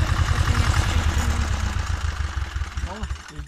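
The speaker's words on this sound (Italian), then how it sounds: "Motore Lombardini, originale." A Goldoni tractor with its original Lombardini engine runs through its exhaust, a rapid, regular low thudding close to the microphone that softens and turns more irregular toward the end, with voices faintly present.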